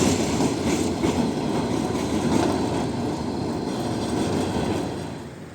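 A yellow-green tram rolls past on a street in Poznań, a loud steady rumble with faint rail clatter that stays close for several seconds and then fades slightly at the end, with no talking.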